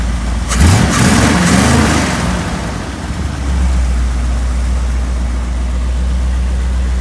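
A large 454 V8 engine in a 2001 Ford F-250 pickup idles steadily with a low, constant rumble, after a brief burst of revving near the start.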